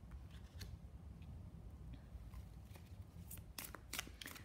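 Soft, faint handling of tarot cards during a reading, with scattered quiet snaps, slides and flicks of cards being turned and laid out, busier toward the end, and no talk.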